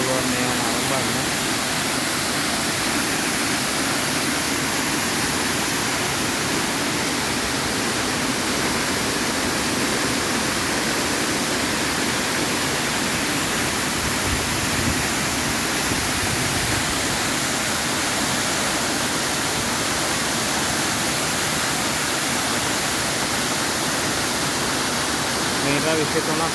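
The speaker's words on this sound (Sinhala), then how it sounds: "meter 23ක් උස්ස කතා ඔය ඇල්ල" Kathaoya waterfall, 23 m high, in Sinharaja forest, roars as a dense, unbroken rush of falling water that stays loud and steady throughout.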